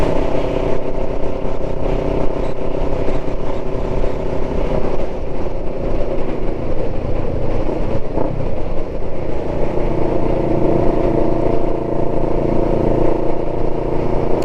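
Kawasaki ER5 motorcycle ridden toward the coast near Weston-super-Mare, a continuous loud engine drone with wind rush, steady throughout with slight shifts in pitch.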